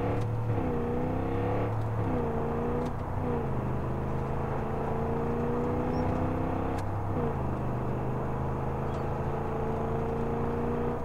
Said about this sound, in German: Schon wieder so ein LKW.